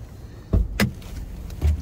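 The sunroof on a 2024 Volkswagen Jetta Highline moves, with a few close mechanical clunks and a soft motor whir inside the quiet cabin.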